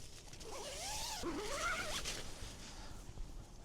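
The zipper on the inner door of a Durston X-Dome 1+ tent is pulled in one long, close rasp that rises and falls in pitch, followed by quieter fabric handling.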